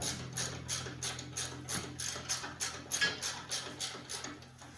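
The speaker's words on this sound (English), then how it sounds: "we're gonna get our ratcheting wrench back on there, hold the nut," A ratcheting wrench spinning a nut onto a Dodge Ram upper control arm, a steady run of about a dozen quick ratchet clicking bursts, close and moderately quiet.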